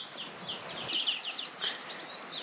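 A small bird chirps at a remote camp, giving quick, high twittering calls that run in close succession and are fairly near, with no talk.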